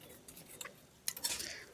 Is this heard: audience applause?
no